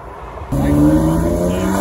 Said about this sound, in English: Nothing like the fresh noise of a V8 Camaro in the morning. listen to that supercharger.